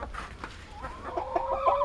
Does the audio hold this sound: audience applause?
no